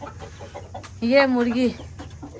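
A chicken gives one loud, drawn-out cluck at close range during a home puja ritual, set against quieter background voices and murmuring.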